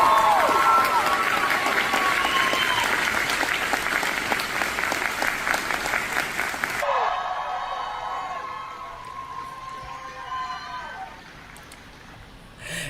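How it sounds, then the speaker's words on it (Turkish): Thick, loud applause and cheering fill a large high school hall at a graduation ceremony, then thin out into a quieter, patchier clapping that tapers off toward the end. "Alkışlar durulmuyordu o koca lisenin salonunda sevgili izleyiciler"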